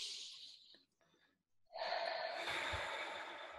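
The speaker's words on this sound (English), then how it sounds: "Taking a moment to take a few deep breaths." A person takes deep, audible breaths close to the microphone: a breathy inhale fades into a brief silence, then a long, steady exhale follows, with no words.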